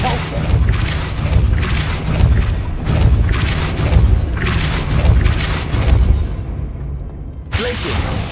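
Hogwarts Legacy's Depulso force spell fires off in a run of heavy booming whooshes and thuds, five or six loud bursts pulsing about a second apart, then a brief lull and a fresh swell at the end.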